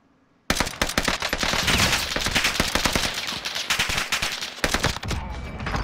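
Rapid automatic gunfire in the video game Warzone: loud, close bursts of sharp shots after a short silence, firing in long strings with a brief pause near the end.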